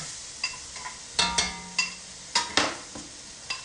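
Garlic and onion fry together in a pan for homemade spaghetti sauce, with a soft sizzle beneath a series of sharp spoon scrapes and clinks against the pan, close and intermittent.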